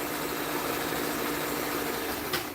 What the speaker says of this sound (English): I've missed the smooth, fast sewing experience